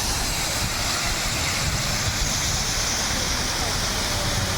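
Steady broadband rush of falling water from a waterfall and fountain at Wat Pha Son Kaew temple in Khao Kho, Phetchabun, loud and continuous throughout with no break.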